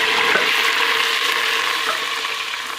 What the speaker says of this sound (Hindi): प्याज को ब्राउन कर लेंगे